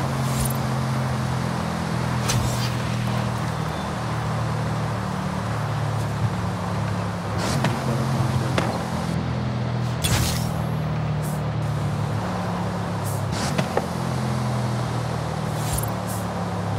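A Bugatti Divo racing at speed in Forza Horizon 5, its engine a steady, loud, unbroken drone with a few faint clicks and whooshes passing over it.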